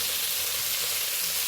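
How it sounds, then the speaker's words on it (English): Chicken pieces fry in a non-stick wok during a Malaysian dry bak kut teh stir-fry, giving a close, continuous crackling sizzle with no voices. "fry until you cannot see any redness at all"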